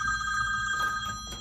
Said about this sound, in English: Somebody wasn't compliant on turning off their phone.